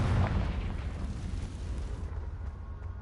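A Confringo spell blast in Hogwarts Legacy: a deep, rumbling explosion that hits hard at the start and then rolls on as a heavy sustained roar, loud and close with no talking.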